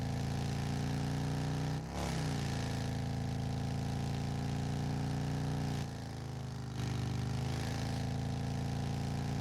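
A steady, droning flat-six engine of the Triclops car in the racing game Drive Beyond Horizons hums at a constant pitch, with brief dips in tone.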